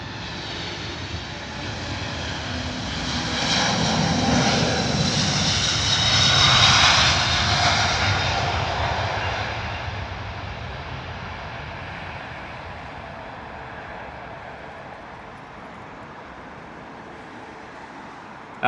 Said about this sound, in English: We've got a Delta A330-900 rolling, heading out to Boston.